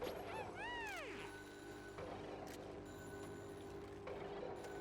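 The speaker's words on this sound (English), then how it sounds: "I can hear the phone ringing, but you can't answer it." Electronic phone ringing inside the colony-building game Oxygen Not Included, a couple of quick warbling chirps early on over a steady synthetic game-music and ambient bed, with no speech.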